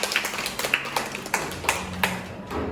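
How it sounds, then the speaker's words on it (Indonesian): Scattered hand claps from a small group, a few distinct sharp claps spaced irregularly over a few seconds at moderate distance, fading out toward the end with no talking. "Tepuk tangan untuk link."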